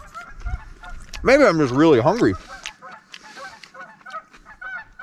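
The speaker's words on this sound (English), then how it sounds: "the geese are just having a great time over there" Geese honk loudly in a rising, wavering burst of calls for about a second near a mountain lake during a trout catch-and-cook outing, with someone talking before and after and faint bird calls continuing in the background.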